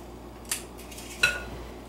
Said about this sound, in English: I'm just going to use a cookie scoop. You can just use your hands and roll it into a ball if you'd like. And put a scoop of dough into each muffin tin